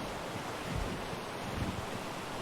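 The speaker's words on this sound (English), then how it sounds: "you can't get too much more picturesque than a waterfall going through the middle of your base" A waterfall running through the middle of a base in the video game ARK, a dense steady rushing roar that fills the space without letup for a couple of seconds.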